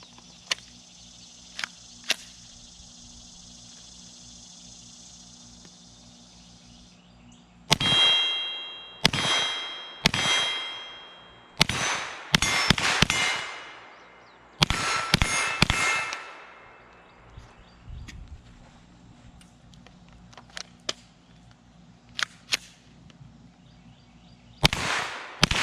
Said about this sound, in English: We're gonna ring a bunch of steel.